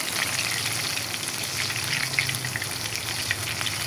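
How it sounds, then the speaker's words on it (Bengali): Besan batter deep-frying in hot oil, a steady, close, hissing sizzle with fine crackling and bubbling throughout, no voices. "আর এটা অবশ্যই ডুবো তেলে ভাজতে হবে"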